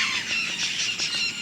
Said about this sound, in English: a place like this that has parrots everywhere